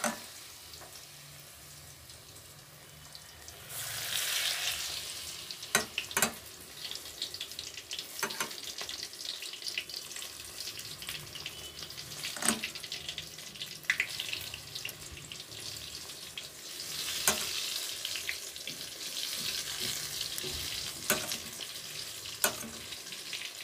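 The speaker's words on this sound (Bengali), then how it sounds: "এই কটাও আমি ভেজে নেব বন্ধুরা" Eggplant and bok flower fritters frying in hot oil, a steady soft sizzle throughout with intermittent clicks and sharper crackles, occasional utensil taps and water-like hiss rising and falling, no talk.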